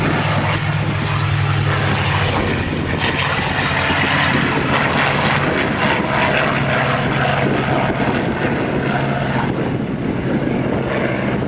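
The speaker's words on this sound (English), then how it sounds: "Redolent this takeoff of those undertaken by Mustangs from Duxford during the latter stages of the Second World War." A WWII P-51 Mustang takes off at Duxford, its propeller engine roaring loud and steady throughout, a sustained powerful drone with no speech over it.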